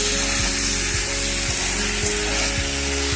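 Bottle gourd curry sizzles loudly in a pan as thick tamarind water is poured in and stirred, with a steady hiss and faint repeated scraping knocks under it, no voices.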